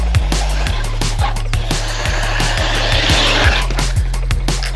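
A radio-controlled car tears around a small car park with a loud, close, high-revving whine that rises and drops in quick repeated bursts, along with tyre skids and scrabbling over the surface.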